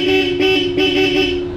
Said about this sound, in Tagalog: And then yung loud horn natin na Europa.